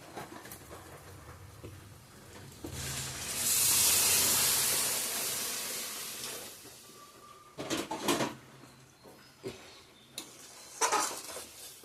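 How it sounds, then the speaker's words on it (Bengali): Hot water poured into a sizzling pan of ghugni curry sets off a loud surging hiss that rises and slowly fades, followed by several sharp clinks and scrapes of a utensil against the pan. "জলটা দিয়ে দিই, গরম জল দেব"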